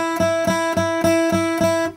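An electric or acoustic guitar repeats one pitched note about seven times in a steady rhythm, the same pitch taken at different places on the neck, each pluck bright and sustained with rich harmonics, close and clear with no talking.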